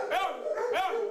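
A dog gives two close, clear barks about half a second apart, each rising and falling like a questioning woof, loud and alone without talk.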